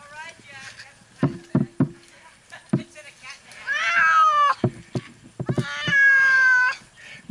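A heavy cat being rescued from a tree in Mississippi meows repeatedly, with several long drawn-out wailing cries between short bumps and knocks, close and loud, while people talk nearby.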